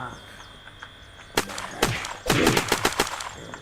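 Gunfire in the video game Unturned, with a few scattered shots, then loud rapid bursts of automatic fire in quick succession amid a steady insect-like ambient hum.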